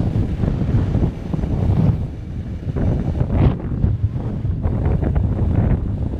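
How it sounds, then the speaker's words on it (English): Strong gusting wind buffets the microphone while riding an eBike downhill on a windy day, a loud continuous low roar that swells and dips without pause. "It's a super windy day today."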